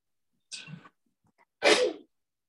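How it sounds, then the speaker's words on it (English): Two sharp human sneezes close to the microphone, each a short explosive burst with a breathy lead-in, separated by about a second of near silence. "I could sneeze."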